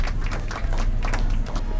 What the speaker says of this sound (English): How about a round of applause just for the heck of it?